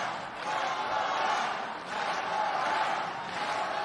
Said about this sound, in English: the crowd is in it, cheering on their Japanese fighter